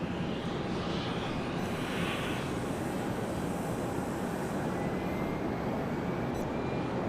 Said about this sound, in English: Looks like a MAX 8 being pulled out to the starting line